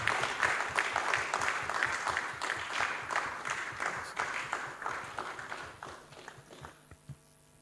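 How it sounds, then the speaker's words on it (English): A modest audience at a church workshop claps steadily, loud and close at first, then thins into scattered individual claps and stops after about seven seconds. "can we show appreciation by giving him a hand of applause?"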